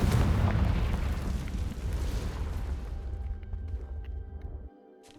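Confringo spell explosion in the video game Hogwarts Legacy, a loud deep blast that rumbles and slowly decays over several seconds before cutting off, heard alone.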